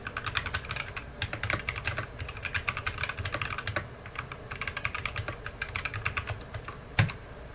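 Fast, uneven clicking of keys on a computer keyboard, close and fairly quiet, in bursts with brief pauses and one sharper tap near the end, no voices.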